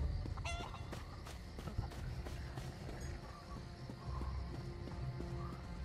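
A chicken clucks in The Elder Scrolls Online, with short clucks over a busy, steady bed of ambient game sound; no one talks.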